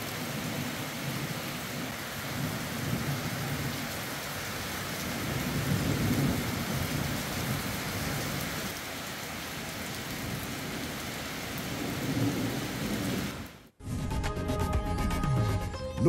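Unseasonal rain pours steadily in Yavatmal with rolling thunder, a dense, continuous wash of heavy downpour that cuts off abruptly near the end. A patter of drops follows the cut.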